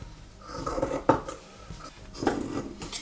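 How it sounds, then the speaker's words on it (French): Scissors cut roughly through fabric around a giraffe plush sewing pattern, giving a few close crisp snips and rustling scrapes, with one sharper snap near the middle. "je vais commencer par découper grossièrement tout autour"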